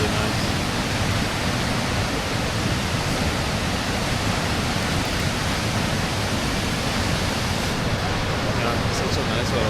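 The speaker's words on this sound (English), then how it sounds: "Yeah, such a nice waterfalls." A waterfall pouring into crystal-clear water makes a loud, steady rushing roar, unbroken for nearly ten seconds, close to the listener.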